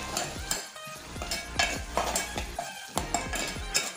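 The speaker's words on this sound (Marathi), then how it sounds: "लगेच परतवून घ्यायचा." Egg burji with turmeric being stir-fried in a pan, with repeated clinks and scrapes of a utensil against metal over a faint sizzle, close and rhythmic.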